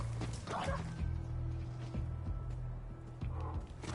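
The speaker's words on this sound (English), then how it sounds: "Who's growling at me?" An enemy creature in the video game Borderlands 3 gives a low, rumbling growl with short dog-like barks and yips over a steady hum of game ambience.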